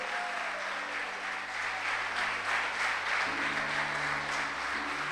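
A church congregation in Corrientes applauds during a pastor's sermon, a sustained, somewhat distant clapping wash over a low sustained musical drone that shifts pitch partway through.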